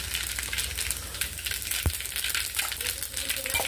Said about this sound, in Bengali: গরম হয়ে গেছে, এবার জিরে, গোটা জিরে আর শুকনো লঙ্কা ফোড়ন দিয়ে দিলাম।